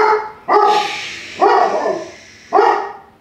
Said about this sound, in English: He's from Afghanistan and he knows how to bark very well.